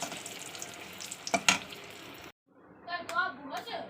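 Slices of pointed gourd (potol) fry in a pan, making a close, crackling sizzle that breaks off abruptly and then resumes.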